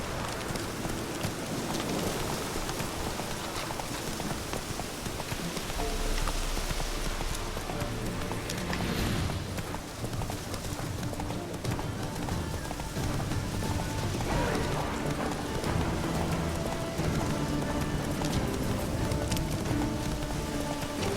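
Roach, Geralt's horse in The Witcher 3, gallops with continuous rhythmic hoofbeats under steady rain, loud and close, with a brief voice at the start.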